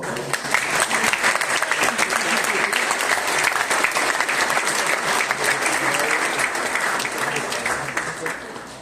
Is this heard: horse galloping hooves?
no